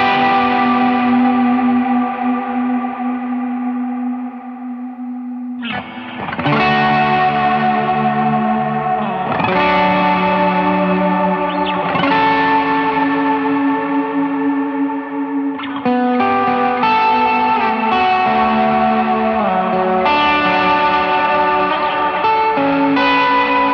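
Electric guitar chords played through a Veritas Custom Minimaster pedal, struck several times and left to ring with echo, reverb and slight grit, loud and alone, each chord sustaining long before the next strum.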